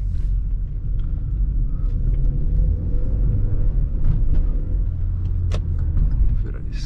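A Hyundai Tucson turbo rolls slowly through city traffic with a steady low engine rumble and road noise, faint distant city sounds and brief clinks above it.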